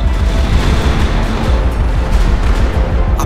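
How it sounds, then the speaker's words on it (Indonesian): A deep explosion in GTA 5 zombie survival gameplay, rumbling like an earthquake: a heavy, continuous low booming roar that fills the whole stretch at high volume. "Ada suara ledakan tadi kayak gempa."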